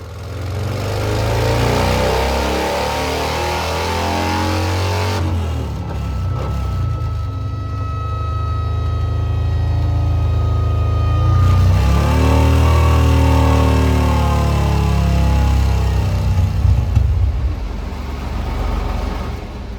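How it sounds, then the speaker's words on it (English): A Harley-Davidson Low Rider ST with an S&S 475 camshaft upgrade revs hard on a dyno, its loud engine climbing through several long rising pulls with brief drops between, close and continuous. "put the bike on the dyno for its first run"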